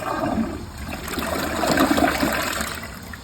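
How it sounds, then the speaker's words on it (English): A Niagara Stealth toilet flushes with a loud, close rush of water that swells and churns steadily for several seconds without pause. "I'll give this toilet a flush"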